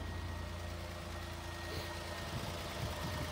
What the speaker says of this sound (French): Le mythique bruit du démarreur de PRV.